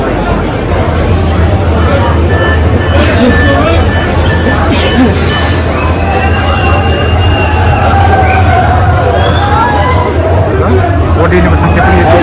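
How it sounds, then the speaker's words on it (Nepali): A crowded train station where a train rolls in, with loud continuous rumble, wheel squeal and clanking, while a dense crowd of people talks throughout. "ट्रेन चाहिँ आइसकेछ"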